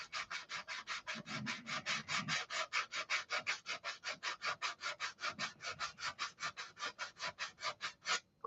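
Wood sanded by hand with steady back-and-forth strokes, a regular rhythmic scratchy rasp of about four strokes a second, close and fairly quiet, with no voices.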